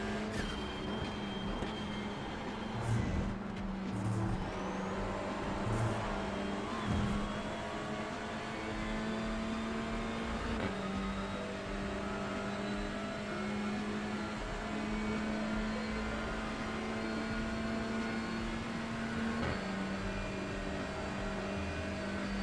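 A TCR touring car engine in the iRacing sim at Daytona Road Course drones steadily at high revs, a loud continuous buzz with small shifts in pitch and a few brief bumps, with no talking.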